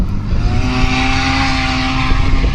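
A Polaris side-by-side fitted with a Pro R turbo kit accelerates hard, its engine roaring loud and close with a constant high whine and rising turbo tone, no voices.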